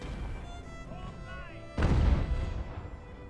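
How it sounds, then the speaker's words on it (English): A single heavy cannon boom from artillery in the Ultimate Admiral: Age of Sail game erupts partway through a Battle of Bunker Hill scene, following a quieter stretch with faint tonal sounds. "I'm going to have this artillery see if we can take on their artillery."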